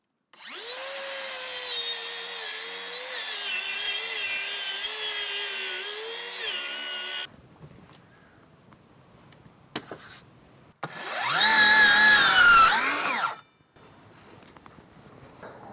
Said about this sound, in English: So now I'm taking the circular saw.